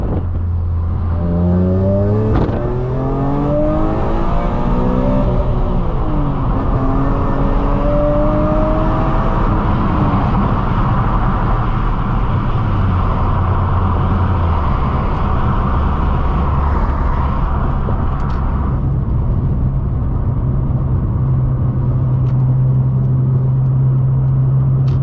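A BMW E46 M3 CS (ZCP) engine pulls through the gears on a drive with the windows down, revs climbing and dropping at each shift before settling into a steady, loud cruising drone with road roar.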